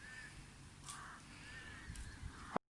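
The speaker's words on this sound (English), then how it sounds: "That seagull is massive there." A few harsh seagull calls ring out at a moderate distance over a quiet background, ending in an abrupt bump.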